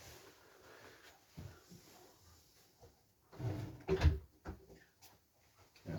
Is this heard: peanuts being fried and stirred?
no